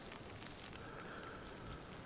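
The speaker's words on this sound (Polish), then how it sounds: "Czekam teraz, aż może przestanie deszcz padać. Chyba... Nie, jeszcze pada." Steady rain drumming on a tent during a camping trip in Norway, a dense, even patter that stays close and constant throughout with no voices.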